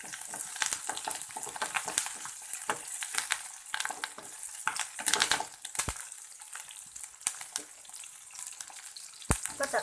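Onion fries in a pan with curry leaves and coriander leaves, a soft crackling sizzle broken by irregular stirring scrapes and clatters, fairly quiet and close.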